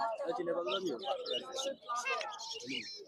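A parrot at the Meradia bird market in Dhaka makes a run of close, shrill chirps and squawky, speech-like calls, a talking bird mimicking words amid quick bursts.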